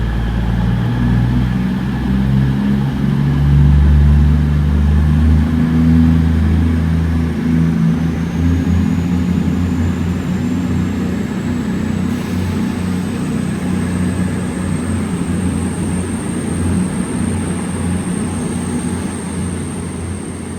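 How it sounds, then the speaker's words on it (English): A Class 221 train pulls out of Stoke-on-Trent bound for Manchester Piccadilly, a loud, steady rumble of engine and wheels with a rising whine, close by and gradually fading, with no talk. "Train now departing is a 221 going to Manchester"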